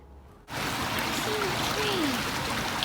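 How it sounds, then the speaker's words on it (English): A small babbling brook in woodland on a November walk, heard close up as a steady rush of trickling water that begins abruptly after a quiet start and then stays constant, with a faint whistling tone briefly above it. "Just found this lovely little babbling brook."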